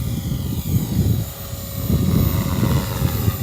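Walkera v450D03 RC helicopter flying in strong wind, with a steady, loud rotor and motor drone that dips briefly before surging back, no voices.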